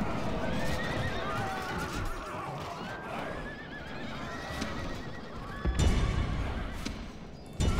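In a Rome: Total War battle, horses neigh and whinny repeatedly over galloping hoofbeats and battlefield din, with several shrill calls overlapping and a louder impact burst near the end.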